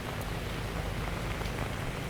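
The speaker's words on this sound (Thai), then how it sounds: "ฝนตกแบบนี้เลย" Steady rain falling in Vang Vieng during days of continuous downpour, a dense, even hiss of drops close by with no voices.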